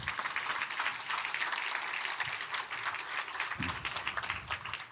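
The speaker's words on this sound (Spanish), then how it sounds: "Era un aplauso al Señor por eso." Applause from a church congregation during a sermon, a dense, sustained wash of many hands clapping together that holds steady at moderate distance for several seconds.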